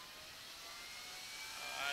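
A graphics card's cooling fan runs with a steady broadband whoosh and hiss, holding close and fairly constant before swelling slightly louder near the end.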